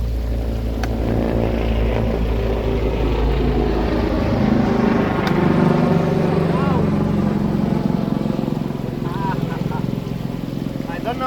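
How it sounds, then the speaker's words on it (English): Helicopter passing overhead near a hut at a bedrock-breaking flood control site, a steady broad engine and rotor roar rising mid-clip over outdoor background noise, with voices faintly present. "There is a helicopter or something."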